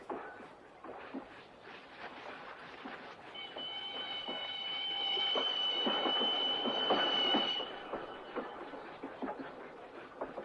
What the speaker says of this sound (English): You see, the train doesn't stop at Tucumcari.